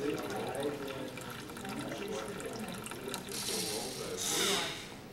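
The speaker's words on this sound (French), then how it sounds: "Et ici, notre valve est actionnée au niveau de l'eau propre" An aquaterrarium valve clicks and ratchets mechanically, and then a burst of clean water gushes loudly near the end. A voice speaks over the running water.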